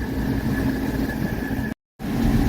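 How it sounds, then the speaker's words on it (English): A 1985 Mercedes 300TD diesel idles with its AC compressor running, a steady low rumble and hum with a faint whine above it, cut by a brief dropout near the end before the idle resumes. "AC compressor just kicked on, and I see the dials dropping"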